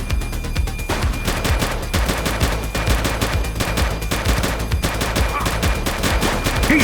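Rapid gunfire rattles through a scene in the police game The Precinct, with dense bursts of automatic shots repeating steadily and close at high volume for the whole stretch, and no speech.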